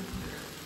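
Rain falls on a mountain hiking trail in the Rychlebské hory, a faint, steady patter with no voices.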